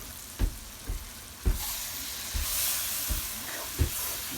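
A chicken Francese sauce made with cooking wine and garlic simmers in a pan, giving a steady close sizzle and hiss punctuated by several soft knocks of a utensil against the cookware.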